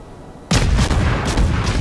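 Warship cannons firing in the naval combat game World of Warships: a sudden loud blast begins the salvo, followed by rumbling booms and a second burst of heavy gunfire, with no talking.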